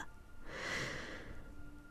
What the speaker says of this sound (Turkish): Şimdi derin bir nefes al